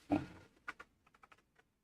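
Several quick keystrokes tap on a computer keyboard, close and fairly soft, in a short irregular burst after one louder thump at the start.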